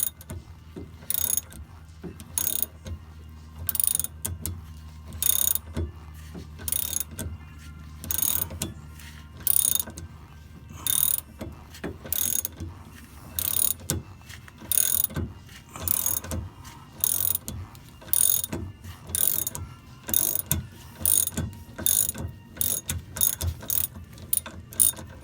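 A ratchet wrench loosens a bolt on the A-arm of a Porsche 914, its close, crisp clicking coming in steady repeated bursts of rapid ratchet strokes with short pauses between them.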